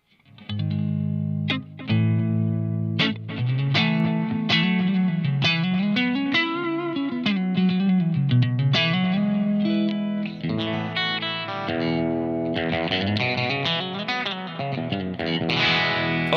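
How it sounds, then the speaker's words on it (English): An electric guitar plays a melodic line through a Dreadbox delay and reverb pedal, notes echoing and washing together into a spacious, sustained sound. "Finally is the delay and reverb mode in one."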